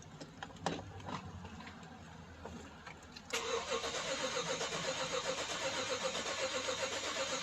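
A 2012 BMW X5 with a no-start fault cranks over without firing. A quiet, uneven churn gives way to a steadier, louder mechanical whir that holds to the end with no catch.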